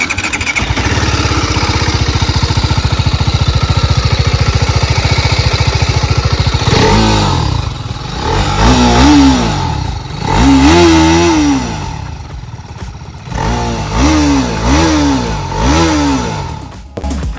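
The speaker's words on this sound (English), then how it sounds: "Now listen to the sound of this improved single cylinder." TVS Apache RR310 single-cylinder motorcycle engine, 2024 model, idling steadily and then revving in several sharp rising-and-falling bursts, loud and close with no talking.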